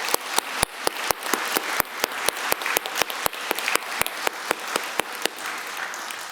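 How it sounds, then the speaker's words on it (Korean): A church congregation at a Sunday service claps for two retiring elders, a brisk run of crisp, evenly spaced claps that sound like a few nearby hands rather than a large crowd, with no talking. "우리 두 분께 축하의 박수하도록 하겠습니다."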